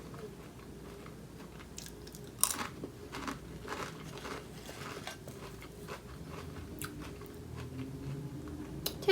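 Lays Wavy Funyuns onion-flavored chips crunched and chewed close up, a sharp bite near the start followed by steady irregular chewing crunches, with no talking.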